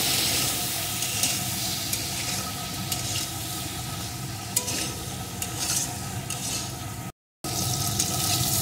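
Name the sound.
potatoes frying in oil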